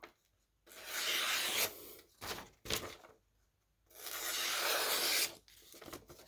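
A Spyderco Tropen knife slicing through material in several rasping strokes, two long drawn cuts with shorter scrapes between, close and fairly loud with no talk.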